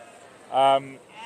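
A Valais Blacknose sheep at a show gives a single short, nasal bleat, fairly close, standing out briefly against a quiet background murmur.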